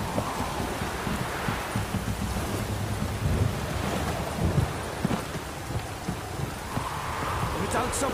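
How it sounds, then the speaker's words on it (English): Steady heavy rain with rolling thunder in The Witcher 3, a dense continuous wash of rainfall with low rumbles throughout. "stop raining, my arse will rot off."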